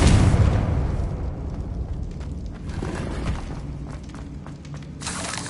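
A Confringo spell blast slams into a barricade in Hogwarts Legacy, a loud booming burst at the start that trails into rumbling debris and crackle, with a second bright burst near the end.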